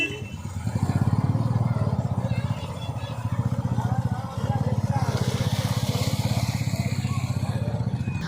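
A motorcycle engine idles close by through its silencer, a loud, steady, rapid thumping pulse that continues throughout, with what sounds like voices faintly in the background.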